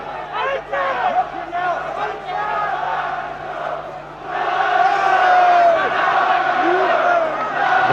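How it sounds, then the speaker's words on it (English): A boxing crowd at a 1990 middleweight fight chants a fighter's name, a loud rhythmic roar of many voices that swells partway through. A commentator's voice runs over it. "Crowd once again bring up the chants of Nigel."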